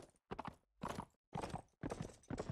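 Hooves of a mount clip-clop in Mount & Blade Warband, four loud, close bursts of hoofbeats separated by brief silences.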